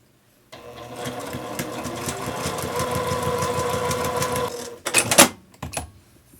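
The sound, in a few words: sewing machine sewing a quarter-inch quilt seam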